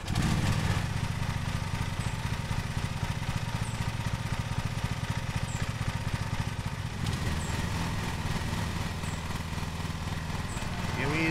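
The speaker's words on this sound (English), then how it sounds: "Oh, we gotta start this engine." A riding lawn mower engine in the Lawn Mowing Simulator video game starts up and settles into a steady, loud droning run, with its tone shifting partway through the long stretch.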